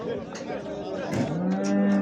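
A small young cow, in calf, lows at the Göksun animal market in Kahramanmaraş, a close drawn-out moo swelling toward the end while crowd chatter and voices murmur underneath.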